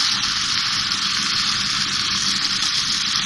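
Spices sizzle steadily in a hot pan of oil with tomato, garlic and ginger, a loud continuous hiss and crackle with no talk over it.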